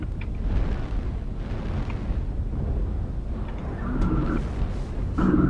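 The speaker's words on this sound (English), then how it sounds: "Smoke on our tower. Airstrike or artillery." Artillery strike in the mech combat game MechWarrior Online: a continuous, loud, rumbling roar of explosions with a dense low-end wash that swells slightly toward the end.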